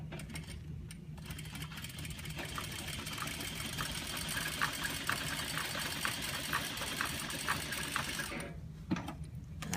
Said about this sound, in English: I'm going to make 2 rows of gathering stitches with my basting.